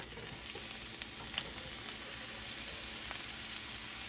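Sliced red onions sizzling in a hot cast iron pan, a steady close frying hiss with small crackles and no talking.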